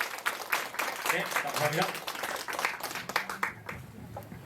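An audience at a school curriculum briefing claps for the second-grade homeroom teachers, with scattered and moderately loud applause alongside a voice speaking over it.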